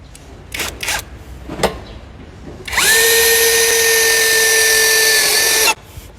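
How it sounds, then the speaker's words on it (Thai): After a few brief taps and clicks, a cordless drill spins up and runs at a loud, steady whine for about three seconds while drilling into steel, before cutting off. "ยิงเหล็กนะครับผม"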